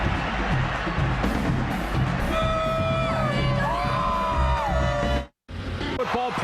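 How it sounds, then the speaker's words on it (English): Dense stadium crowd at an Auburn college football game against Florida, roaring, yelling and cheering loudly and continuously, with a brief sudden drop-out near the end before the roar resumes. "Crowd noise had something to do with that."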